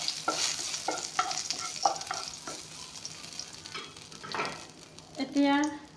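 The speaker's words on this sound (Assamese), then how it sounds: "অলপমান তেজপাতখিনি ভাজি লৈ লৈছোঁ।" Bay leaves and a few whole spices sizzle in hot oil, a steady frying hiss with bursts of stirring and spoon scrapes against the pan, close and fairly loud, with no talk.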